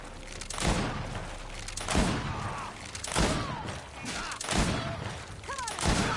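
Repeated bursts of gunfire from a GreedFall battle, roughly one sharp volley every second, loud and close, with some voices and fantasy combat noise in between.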